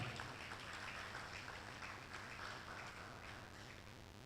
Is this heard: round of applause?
yes